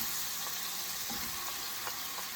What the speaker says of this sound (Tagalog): habang pinuprito natin yung bacon na napaluto na, igisa na natin ang bawang at sibuyas